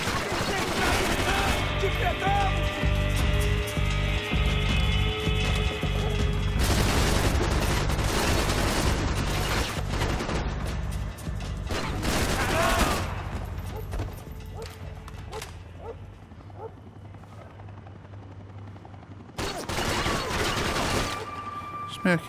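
Gunfire in Max Payne 3, dense bursts of shots with booming hits packed into the first half, then sparser scattered shots and thuds with a loud burst returning near the end, with some talk over it.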